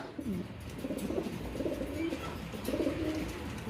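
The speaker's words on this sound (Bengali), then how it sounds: "কম প্রাইসের ভিতরে কিছু ভালো কবুতর আছে" Rajshahi Giribaz pigeons coo softly in low, repeated warbling phrases over a steady background rumble.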